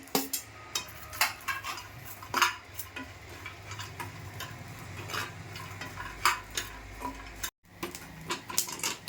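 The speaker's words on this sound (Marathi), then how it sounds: "पहिलं सुकं खोबरं भाजून घेते" Dry coconut roasts in a pan while a spatula stirs it, making repeated close scrapes and taps in an irregular rhythm over a soft background, with a brief dropout near the end.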